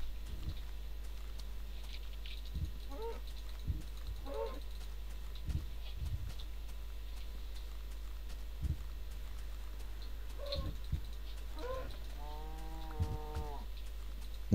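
Low, drawn-out Minecraft cow moos rise now and then over a steady hum, with scattered soft clicks and footfalls, fairly faint and distant.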